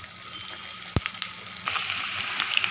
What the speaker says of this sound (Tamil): இப்போ பாருங்கள் நல்லா ஃப்ரை ஆகுது